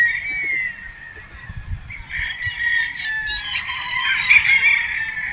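A white muff brood stag rooster crows nearby, a drawn-out, strained cock-a-doodle-doo rising and wavering over a few seconds, with faint background rustle.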